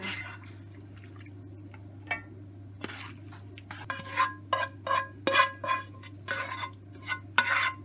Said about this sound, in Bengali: এখন খুব ভালো করে সবগুলো মিক্স করা হচ্ছে